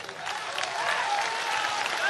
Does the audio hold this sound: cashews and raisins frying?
no